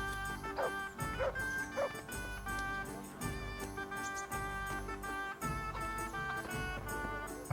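A dog in Kingdom Come: Deliverance, set in 1403, yips and whimpers a few times over steady game music, short bursts of barking rising through a dense musical background.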